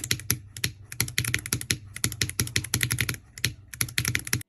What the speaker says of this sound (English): If you're also interested in how the keyboard sounds